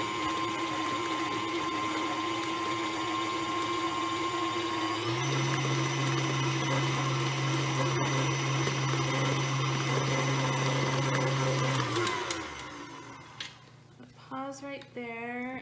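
Electric mixer beating eggs into cake batter, a steady loud motor whine that rises in pitch partway through, then stops and gives way to a few short bursts.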